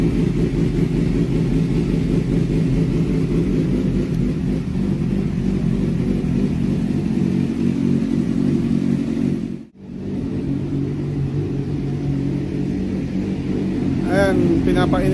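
A motorcycle engine idles steadily while warming up before a ride, a constant close rumble that dips briefly once, with someone talking over it.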